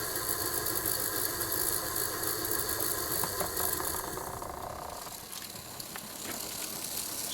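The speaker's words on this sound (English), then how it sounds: "It's Bachmann, my Repair 108, which is a GP50 in a typical split case Bachmann chassis. And that's running pretty well." A Bachmann GP50 model locomotive in Santa Fe livery, with a split-case chassis, runs on a test track, giving a steady whirring motor hum with faint ticking that drops slightly in level partway through.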